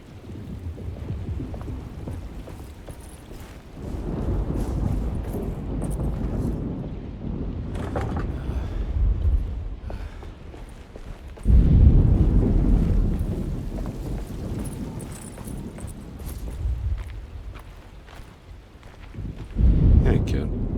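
Thunderstorm with wind and rain in the 2024 video game Alone in the Dark. A continuous wash of rain and wind rises and falls, and deep rumbling thunder surges in twice, loudest near the middle and again at the end.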